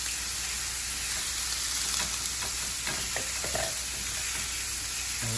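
Onions fry in a pan with salt, pepper and thyme, giving a steady close sizzle with a few brief stirring scrapes and no talking.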